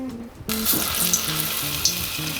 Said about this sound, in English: I'm just going to test if the oil is ready by dropping a tiny bit of onion into the oil.